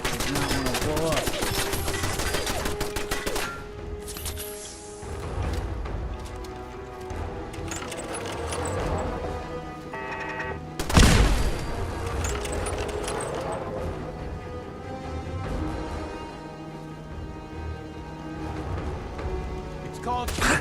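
A turret in Fallout 4 firing in bursts of rapid gunfire, loud and close, with a sharp heavy blast near the middle and game music and effects layered beneath, while someone talks over it.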